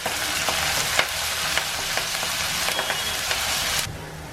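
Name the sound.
garlic, ginger and curry leaves sizzling in oil for grape pickle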